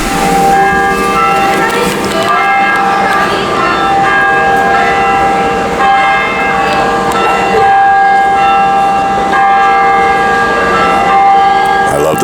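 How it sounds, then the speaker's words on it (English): Church bells ring continuously in Astoria, New York, layered and clanging together with a steady resonant wash of overlapping tones. "The sound of bells, church bells."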